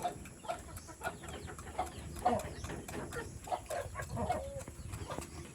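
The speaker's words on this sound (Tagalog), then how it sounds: "Dito yung sisiw mga kabayan." Chickens with their chicks clucking and peeping on a Davao farm, small scattered calls repeating at irregular intervals over a steady outdoor background, fairly close but soft.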